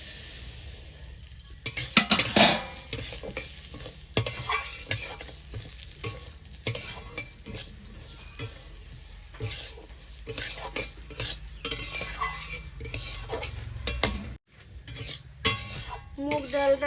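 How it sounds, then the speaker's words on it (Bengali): Moong dal stirred and fried in hot oil in a kadai, a steady sizzle broken by repeated scraping spoon strokes against the pan, close and fairly loud, with no talking. "ঠিক সেইভাবেই ডালটা হালকা করে ভেজে নিতে হবে, যাতে কাঁচা গন্ধটা চলে যায়।"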